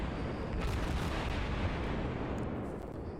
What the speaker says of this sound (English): all the guns of every cruiser you have pounds away into it